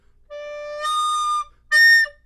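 A recorder note from blowing too hard jumps from a steady tone into a shrill, piercing overblown squeal, then a second harsh high blast after a brief gap.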